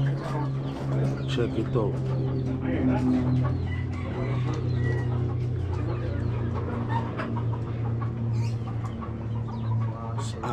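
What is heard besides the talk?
hens and chicks clucking on a farm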